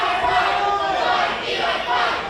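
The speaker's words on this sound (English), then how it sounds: "The crowd chanting, "Fly, Eli, fly,"" A crowd at an independent wrestling event chants in unison, forming a dense, steady roar of many voices that swells and dips slightly and continues throughout.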